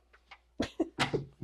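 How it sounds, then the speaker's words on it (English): A pet dog sneezing several times in quick succession, sharp snorting bursts close by in an otherwise quiet room. "Hear my dog sneeze."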